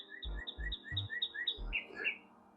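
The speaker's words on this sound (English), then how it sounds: "Y'all hear the bird call?" A bird in a backyard gives a quick series of bright, repeated chirps, about eight short notes in a steady rhythm, fairly faint over low background thumps.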